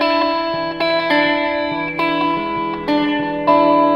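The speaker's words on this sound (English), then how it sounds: "there's some front end reverb, some spring" Electric guitar through the REVV D25 amplifier with front-end spring reverb from a Volante pedal: sustained chords and notes ring out with a wet, washy tail, new strums landing every half second or so, fairly loud and alone.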